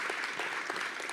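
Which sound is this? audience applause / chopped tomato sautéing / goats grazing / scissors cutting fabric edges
audience applause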